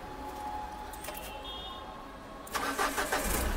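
A car at a used-car lot in Delhi cranks and fires up, settling into a steady idle. The engine is close and fairly loud, following a quieter stretch of background noise.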